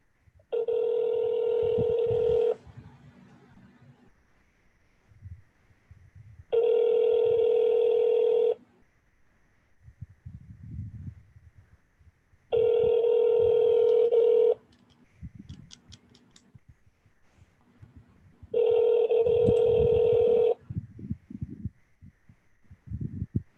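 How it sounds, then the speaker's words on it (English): Four loud electronic phone ring tones from a Google Voice call, each about two seconds long, separated by longer gaps filled with soft background noise. "Say your name after the tone, and Google Voice will try to connect."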